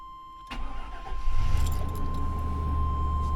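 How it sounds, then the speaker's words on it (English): A Chevrolet Suburban engine cold starts after a brief jingle of keys, the starter catching within a second and settling into a smooth, quiet, low idle. "Cold start."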